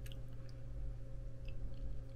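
Close, quiet chewing of crushed edible chalk balls, with soft crunchy squishing bites over a steady low background hum and no talking.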